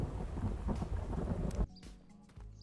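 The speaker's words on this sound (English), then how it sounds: "Dude, it looks like in a storm." A storm in the Road to Vostok survival shooter game rumbles with low thunder over a bed of falling rain, then cuts abruptly to a quieter patter with faint drips and a soft rumble.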